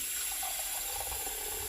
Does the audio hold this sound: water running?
yes